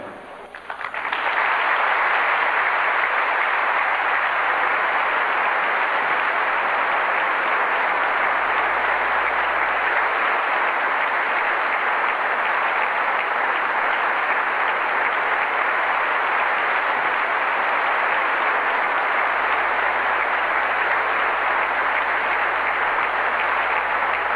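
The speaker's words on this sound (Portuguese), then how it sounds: "eu convido a você a saudar com um caloroso aplauso aquele que o mundo inteiro aprendeu a conhecer como o irmão André" Warm, sustained applause from a large audience welcoming Brother Andrew, a dense even wash of clapping that swells in quickly and holds steady, loud and close, with no voices over it.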